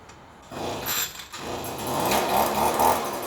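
An Echo two-stroke blower on a cold start with half choke fires up and settles into a loud, raspy, rising engine roar after a brief quiet moment.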